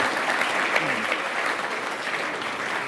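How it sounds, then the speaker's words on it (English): Applause from a conference audience at a central banking forum, steady dense clapping filling the room for the full length, with no voices standing out. "applause for all of you"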